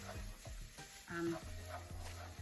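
Stirring of a flour mixture for biscuit gravy in a pan, with soft sizzling and scraping strokes repeating every half second or so, close and fairly quiet, with brief faint voices in between.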